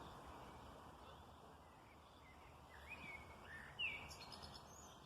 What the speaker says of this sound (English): it's nice to listen to the birds.